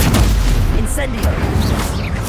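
Incendio fire spell cast in the Hogwarts Legacy video game, a loud, dense burst of booming, crackling fire effects sustained for a couple of seconds, with game voices mixed in.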